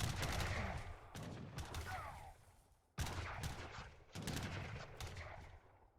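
Musket volleys and town center fire in Age of Empires III, with grenadiers and Yumi archers fighting: dense, loud crackling bursts that start, fade, and then erupt again twice in quick succession.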